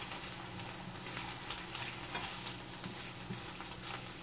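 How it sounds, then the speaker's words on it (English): Breakfast food that has just been flipped fries in a pan, producing a soft, steady sizzle with light crackling. "So now I'm going to turn this thing and cook it in the other side."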